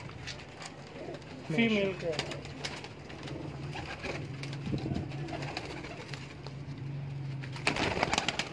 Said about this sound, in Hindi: ये जी 200 जो मादा दिखाई है उसका कबूतर है